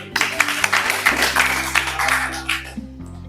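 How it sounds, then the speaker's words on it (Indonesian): Schoolchildren in a classroom clap their hands together in a short burst of patterned clapping. A steady low hum sits beneath it, and the clapping fades out toward the end. "tepuk tangan"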